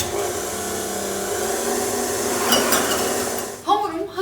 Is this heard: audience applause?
no